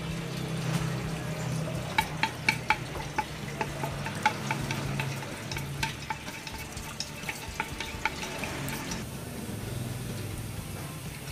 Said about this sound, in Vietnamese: Sau đó khi nồi nóng cho dầu ăn vào, cho tỏi vào phi thơm